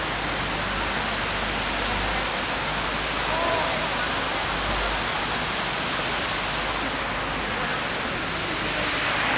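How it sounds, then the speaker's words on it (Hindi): Brindaha Waterfall in Kodarma pours down in a loud, steady roar of rushing water heard close up, a dense and unbroken wash of noise from start to finish. "दोस्तों इधर रहा मेरे पीछे वाटरफॉल,"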